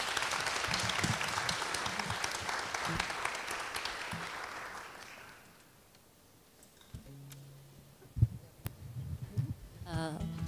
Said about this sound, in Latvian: Agnija Dzelme, aplaus vēlreiz.